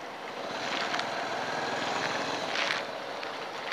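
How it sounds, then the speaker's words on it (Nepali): A swollen river after rain in Butwal, Nepal, a steady broadband rushing roar of water, faint and close to the microphone, with slight wind buffeting and no talk. "खोला चाहिँ बवाल ठुलो भयो यार"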